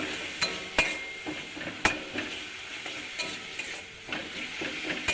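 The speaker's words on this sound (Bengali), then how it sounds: "ভালো করে মশলাটাকে কষিয়েছি, তেল বেরিয়ে এসেছে।" Spice masala with a little turmeric sizzling in oil in a pan while fish curry is being made, close and steady, with sharp metal spatula scrapes and clinks recurring every second or so.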